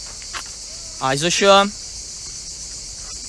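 Crickets chirp in a steady high-pitched trill through the night air during an evening walk near a coast, and a voice speaks briefly over it.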